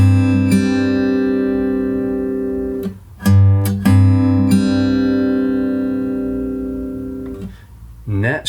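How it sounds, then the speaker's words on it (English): Open G, the third string, ringing on an acoustic guitar, a sustained note that decays slowly, broken by a couple of sharp string scrapes or re-plucks midway, with a faint noise near the end. "Next, we're going to play open G, which is the 3rd string, so it'll sound like this."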